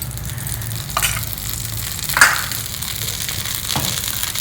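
Dosa cooking in melted ghee on a pan gives a steady low sizzle and crackle, close and even, with a few brief scraping bursts and no talking.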